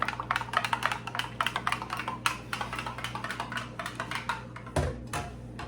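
Small spoon stirring a homemade power punch in a cup, rapid rhythmic clinking and tapping against the container, close and moderately loud, with a heavier knock near the end and no speech.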